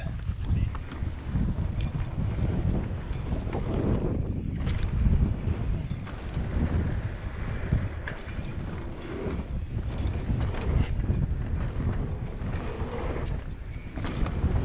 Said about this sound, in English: Wish the wind would stop.